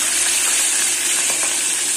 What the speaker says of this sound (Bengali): এই মাছগুলো ভাজা হয়ে গেছে, এগুলো আমি নামিয়ে রাখবো।